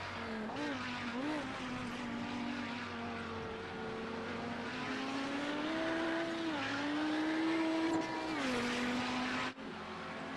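Audi 90 GTO race car at Daytona International Speedway in a racing video game, a steady engine drone with pitch dips and rises through braking, turning and accelerating, a voice faintly under it.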